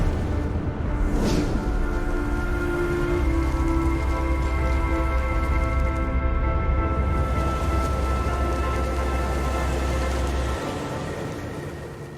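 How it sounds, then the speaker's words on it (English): Steady rain ambience from the video game Gris, a dense continuous hiss with a sustained low rumble and soft tonal layers, with a brief whooshing swell near the start and a slight fade at the end; no talking. "Another example is how the sound of the rain changes when you go underwater."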